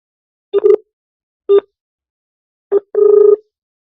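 An outgoing phone call rings unanswered, giving four loud, clean ringback tone bursts separated by silence, the last one longer than the rest.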